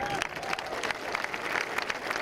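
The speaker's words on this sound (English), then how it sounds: "I'd like you to all give yourselves a great big round of applause" Staff gathered to celebrate the first Trent XWB engine delivery give a round of applause, many hands clapping in a fairly quiet, even wash heard from a little distance.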